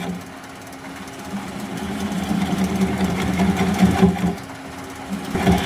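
A wood lathe turns a bowl at slow speed, about 300 RPM, giving a steady low mechanical hum and rhythmic rumble that holds at a moderate level throughout, with no talking.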